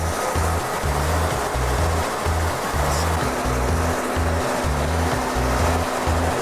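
STAUFF particle counter in an automatic flushing cycle, giving a steady loud rushing, gurgling fluid noise with a pulsing low-end throb and a faint tone joining partway through, no talk.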